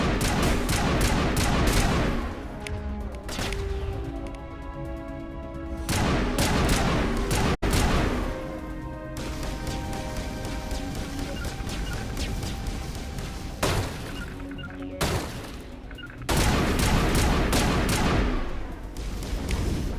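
Semi-automatic gunfire in the Mass Effect video game, repeated loud sharp shots in irregular bursts with ringing tails, dense and close throughout.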